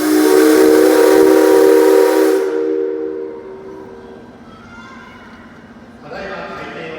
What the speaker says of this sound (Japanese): それではここで2回目の汽笛が鳴ります。